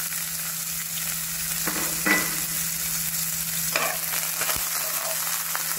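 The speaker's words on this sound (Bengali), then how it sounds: "উপরতে এবার কিছু চপ করা অনিয়নটা ঢেলে নেব" Chopped onion poured onto mustard seeds in hot oil sizzles steadily, with a few brief stirring scrapes along the way, close and moderately loud, for a South Indian fish curry.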